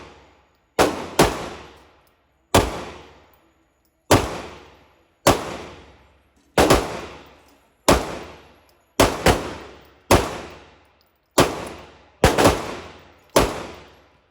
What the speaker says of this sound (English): We'll get some shooting in with the Kimber today